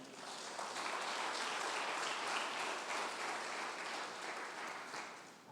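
Sustained applause from a church congregation, many hands clapping steadily for several seconds at an even loudness.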